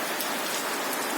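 Steady rain falls heavily on an outdoor work site, a dense, even hiss of drops with no break.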